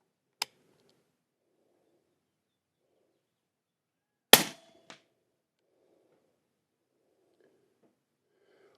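Two sharp rifle reports from a Ruger American chambered in 300 Blackout, fired at targets 100 yards out, spaced about four seconds apart and loud against a quiet outdoor background, the second followed by a faint distant echo or impact.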